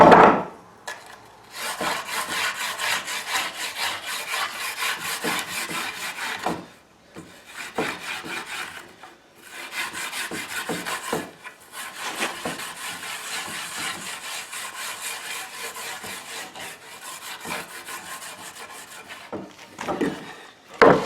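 Charcoal being rubbed by hand into a rough circle-mill-sawn wooden board, long scratchy scrubbing strokes in sustained passes with short pauses, close and fairly loud, no talk.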